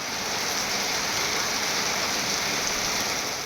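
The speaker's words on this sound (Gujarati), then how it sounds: "હાંસોટ પંથકમાં વરસાદ વરસતા વાતાવરણમાં ઠંડક પ્રસરી" Rain falls steadily over the Hansot area of Bharuch district in Gujarat, a dense, even hiss of drops on surfaces, loud and unbroken throughout.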